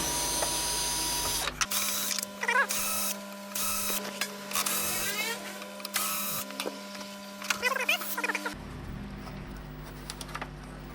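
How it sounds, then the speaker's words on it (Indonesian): Someone opens the back cover of a Sharp 14-inch Xpresion TV that is dead. Close, bursts of mechanical whirring and clicking repeat over about seven seconds above a steady low hum, with no talking. "Seperti biasa, membuka tutup belakang."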